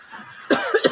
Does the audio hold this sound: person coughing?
yes